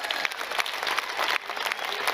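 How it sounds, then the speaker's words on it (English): Audience applause at a Go Pro recruiting event, a dense, steady wash of many hands clapping close by for about two seconds, with a brief dip in the middle. "Give her a round of applause."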